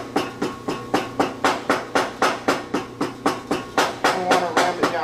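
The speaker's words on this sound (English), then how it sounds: "so just keep packing it with sand" Sand is packed into a sand casting mold with firm rhythmic thumps, about three per second, close and loud with a hissy tail after each blow and no talking.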